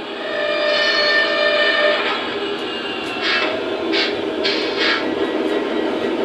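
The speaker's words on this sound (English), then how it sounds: "I'm going to go ahead and slow the train down and stop it using the brake button." An SD40-2 model locomotive slows and brakes to a stop with a continuous mechanical rumble. Its steady tones fade after about two seconds, then several short, bright hissing bursts follow from nearby.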